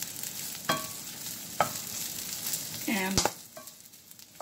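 Food sizzles steadily in a hot pan for a quick side dish, with a spoon stirring and scraping in several distinct clinks and scrapes; a voice speaks briefly and quietly.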